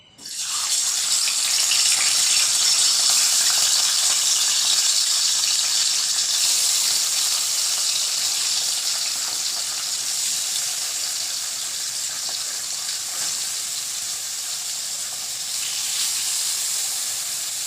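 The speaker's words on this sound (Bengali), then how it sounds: "মাছটা ওইদিকে ভাজা হতে থাক" Bata fish frying in oil in a pan gives a loud, steady hiss that holds for the whole stretch, with no voices over it.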